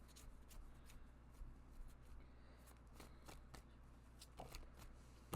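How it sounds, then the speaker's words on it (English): A deck of tarot cards is shuffled close up, with soft, quiet riffling and rapid papery flicks in short irregular bursts. "when I started shuffling out the cards"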